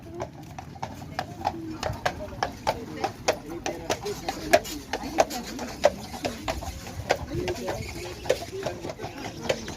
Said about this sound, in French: je sais pas si c'est des percherons, mais c'est des chevaux de trait en tout cas